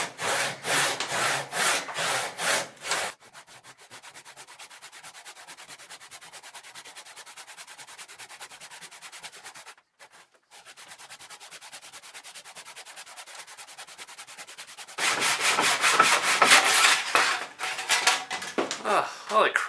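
Blunt handsaw cutting through a wooden crankbait blank, with rough rhythmic rasping strokes loud at the start, a steadier quieter grinding stretch with a brief pause, then vigorous strokes again near the end.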